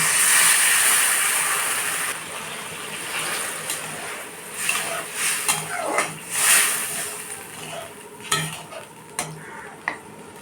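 Water goes into a hot pan of taro curry, raising a bright hiss and sizzle that fades into quieter bubbling, with spoon stirring and scraping against the pan throughout.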